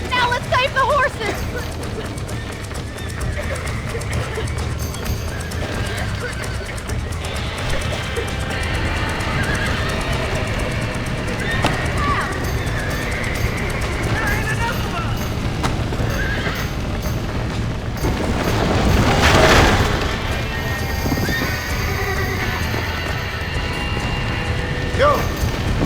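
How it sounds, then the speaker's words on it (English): Horses whinny and their hooves clip-clop amid mechanical clanks and game sounds in Red Dead Redemption, layered under a continuous busy soundscape with a louder burst near the end. "Now let's save the horses."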